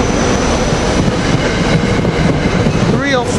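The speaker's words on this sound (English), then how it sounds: "SEPTA train 1781 to Trenton leaving." A SEPTA Silverliner IV commuter train bound for Trenton pulls out of Cornwells Heights station, a steady broadband rumble and rolling wheel noise holding loud throughout, with a brief warbling squeal near the end and a voice talking over it.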